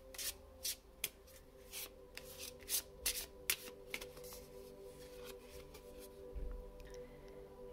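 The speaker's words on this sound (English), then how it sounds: "Let's pick a card first." A deck of cards being shuffled by hand, several quick riffling bursts in a row, close and fairly quiet, then tapering off, no one speaking.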